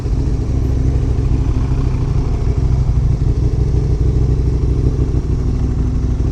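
A Ducati or Kawasaki motorcycle heads out on a ride with a steady, loud engine drone and low rumble, plus some light mechanical clatter, sustained without a break.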